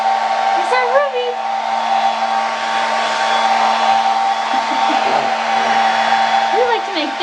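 A blow dryer runs in a steady, loud whir with a constant hum throughout, while a dog makes small whines and vocal noises over it near the start and end.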